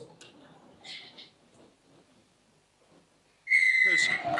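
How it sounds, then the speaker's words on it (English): A referee's whistle at a rugby league match blows a loud, sustained blast that begins abruptly after a stretch of quiet crowd murmur and faint distant talk. "which will start and end on the referee's whistle"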